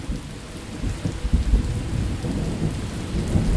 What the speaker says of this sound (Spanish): la lluvia no paraba de caer